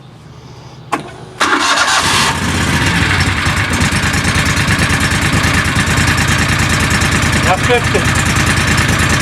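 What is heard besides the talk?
John Deere Gator utility vehicle engine starting and idling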